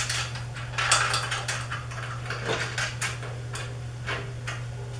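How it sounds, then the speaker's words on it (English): Small metallic clicks and taps as a washer and nut are fitted by hand onto the arm of a Ranar Elite E-6400 screen printing press, scattered light clinks over a steady low hum. "We'll get our washer and nut, and we'll put this one on."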